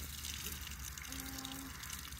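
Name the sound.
water spraying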